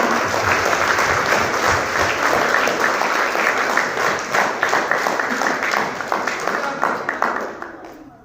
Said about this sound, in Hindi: एक बार दोनों अपने हाथों को उठा के जोरदार तालियां बजाइए, जोरदार तालियां